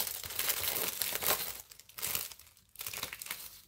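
Plastic packaging around a pack of stationery plastic sheets crinkles and tears as it is opened, with loud, close, irregular crackling bursts separated by brief pauses.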